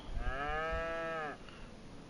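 A single adult cow in the Farming Simulator 25 video game lets out one drawn-out moo lasting just over a second, clear and close, followed by quiet.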